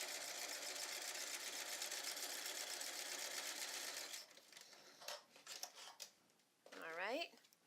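A sewing machine stitching a zigzag with a Teflon foot, a fast close steady rattling run for about four seconds, then short stop-start bursts as a person speaks briefly over it.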